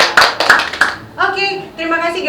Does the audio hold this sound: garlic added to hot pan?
no